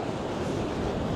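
Stormy sea waves crash at high tide on the Blackpool shore, a dense, loud and continuous roar of surf mixed with wind buffeting the microphone.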